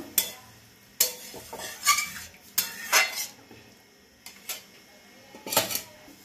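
Boiled mung dal is added to a pan for Bengali mochar dal, with a spoon scraping and clanking against the metal in several separate bursts, close and fairly loud, with no talking.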